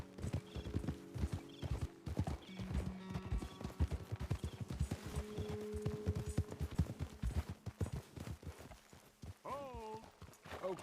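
Horses trotting in the video game Red Dead Redemption 2: a dense, rapid clip-clop of hooves runs throughout under the voices of characters talking, and a whinny-like call sounds near the end.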